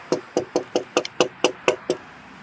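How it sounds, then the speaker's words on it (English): Eight firm knocks on a house door, evenly spaced with one quick doubled rap in the middle, close and loud with no voices over them. "I'm gonna knock on the door"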